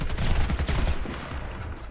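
A competitive video game match, a championship final, erupts in rapid bursts of gunfire, a dense fusillade of close, sharp shots in the first second that thins out toward the end.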